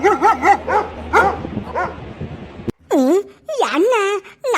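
A cartoon dog barks and yelps in a quick series of loud, close calls, joined by cartoon-style voices and meowing.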